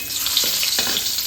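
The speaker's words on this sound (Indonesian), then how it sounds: "Ini waktunya kita goreng bawang bombaynya" Onions fry in a pan of oil left over from frying tempeh, giving a steady dense sizzle with faint stirring scrapes, close and continuous.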